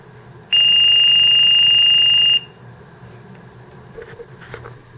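The trigger sensor alarm on an SF3 training gun sounds one loud, steady, high-pitched electronic beep lasting about two seconds, then cuts off to a quiet room hum with a few faint clicks.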